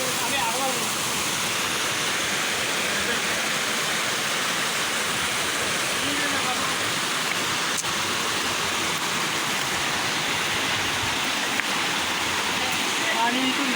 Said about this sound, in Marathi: धबधबा एक प्रकारचा मोठा धबधबा पडते